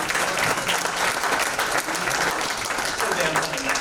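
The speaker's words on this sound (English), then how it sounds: "round of applause for Diedrich and Kevin Corrigan and everyone else" An audience at a film festival talkback claps and cheers in a dense, continuous burst of applause that fills the whole moment at an even level.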